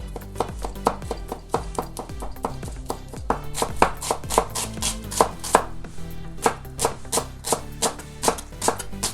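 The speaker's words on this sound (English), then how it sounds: "I'm going to be using 3 cloves of garlic, and I'm going to finely chop them, and 2 shallots." Knife rapidly chopping garlic cloves and shallots fine on a cutting board, a close, steady run of sharp rhythmic taps that quickens in places, with no talking.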